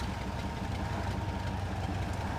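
A damaged truck engine idles in the Spintires off-road game on The Hill map, running rough as if about to stall, a steady low rumble with knocking vibration throughout.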